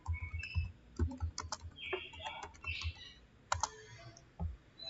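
Someone types a router command on a computer keyboard: quiet, irregular key clicks in quick clusters with short pauses, fairly close, with no talking.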